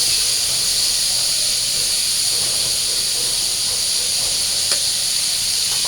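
Pointed gourd (potol) and potato pieces frying in hot oil give off a loud, even hiss that holds steady throughout, close by and without talk.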